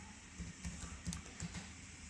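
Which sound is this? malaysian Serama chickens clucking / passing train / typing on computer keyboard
typing on computer keyboard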